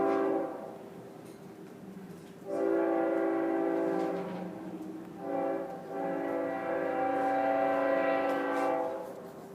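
A passing train sounds its horn in two long, steady blasts separated by a brief dip, loud and fairly close, with a low rail rumble underneath and no talk.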